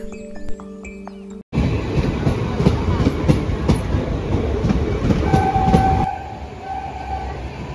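A train rumbles and clatters loudly nearby at Sainthia Junction railway station with a rhythmic metallic clack, and a brief horn-like tone sounds near the end.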